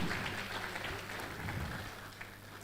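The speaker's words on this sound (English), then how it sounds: "A round of applause for them." An audience at a university valedictory ceremony applauds steadily, a dense wash of clapping from many hands, somewhat distant and sustained throughout.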